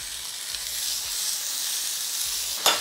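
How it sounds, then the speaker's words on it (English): Breadfruit curry with tomatoes sautés in a pan, giving a steady, close sizzle of frying, with a brief louder spatter near the end. "Just gonna let this saute for about 2 minutes."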